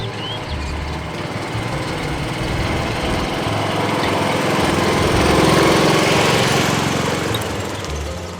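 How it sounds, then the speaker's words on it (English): A sewage pump-out pump's small engine runs steadily at a campground, a loud continuous droning rumble that holds throughout with no talking. "First, I start the pump."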